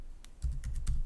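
Quick keystrokes on a computer keyboard: a handful of crisp, close clicks in an uneven burst, with no talking.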